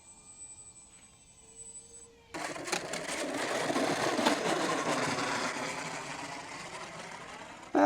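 An Avios C-130 radio-controlled model airplane comes in to land, its electric motors whining steadily and loudly after a quieter opening, holding a sustained buzzing drone through the rest of the pass.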